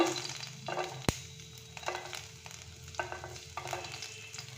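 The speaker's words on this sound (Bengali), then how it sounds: "তাতে আমি সাদা তেল দিয়ে দিয়েছি। এবার দিয়ে দেবো কুচনো রসুন" Chopped garlic sizzles in white oil in a wok, a soft steady crackle broken by a few scrapes of a spoon and one sharp knock against the pan.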